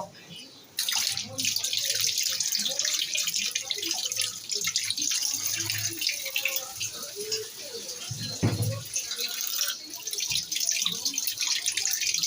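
Tap water runs steadily in a kitchen as something is washed underneath, a close, constant splashing rush with small drips and shifts, and faint voices murmur in the background.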